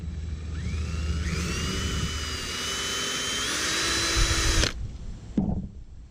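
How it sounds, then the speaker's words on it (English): A power drill with a 5/64-inch bit whines steadily at high speed for several seconds drilling a small hole, its pitch rising slightly as it works, then stops abruptly with a brief clatter afterward. "we're just going to drill a little hole over here"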